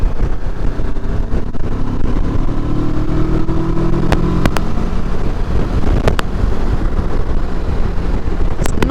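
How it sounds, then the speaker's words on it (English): A Kawasaki Versys 650cc motorcycle rides along Cornish coast roads. Engine drone sits under constant heavy wind roar at the helmet microphone, with a faint rising tone partway through and a few brief clicks. "A slow bike, it really isn't. It's a 650cc."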